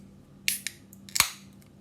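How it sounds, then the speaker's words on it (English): A bottle of Sanctus Brewing Triple B Stout is opened with two crisp clicks and a sharp hiss-pop of the cap coming free, close and fairly quiet, with no talking. "So let's crack it open"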